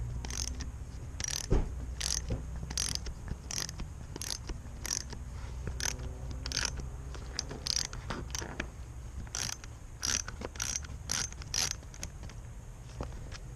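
A ratchet clicks in quick bursts of strokes while a carburetor is worked off an old lawn mower, giving a steady run of sharp ratcheting with brief pauses, close but fairly quiet.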